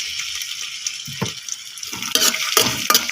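Chopped onions hit hot oil in a home kitchen pot for rice and break into a loud, steady sizzle, with a spoon stirring and scraping in bursts near the end and no one speaking.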